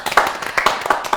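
Clapping from a studio audience at a comedy game show, a few loud, uneven bursts of hands close by, sparse and irregular rather than a full sustained ovation.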